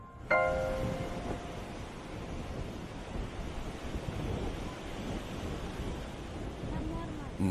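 Sea waves wash against the shore beside a small eroding shore temple in South India, a steady surging rush with wind across the microphone and a brief tonal sound at the start.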